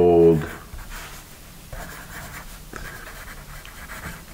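A Paper Mate Mirado triangular pencil scratches softly across paper in quick, uneven strokes while a person talks over it.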